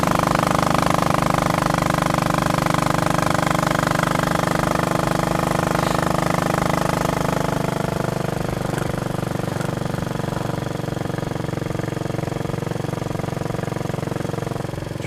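A motorbike engine pulls uphill under load with a loud, continuous, droning roar that holds steady and then eases off slightly toward the end.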